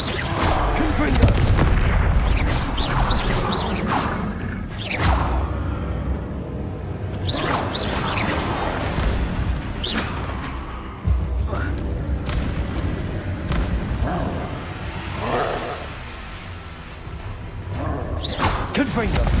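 Repeated Confringo fire-spell blasts in Hogwarts Legacy, a series of loud booming bursts with whooshing sweeps spread across the stretch, with a voice talking between them.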